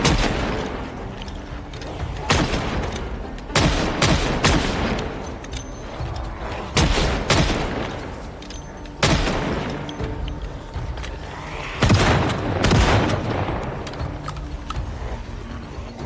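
Shotgun blasts in the Project Zomboid zombie survival game, a series of heavy, loud booms fired at irregular intervals with short pauses between them, each followed by a brief decaying tail, over faint background noise.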